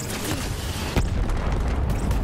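A deep booming explosion in Borderlands 3 rumbles amid continuous loud, dense game noise, with a sharp burst near the middle and no clear speech.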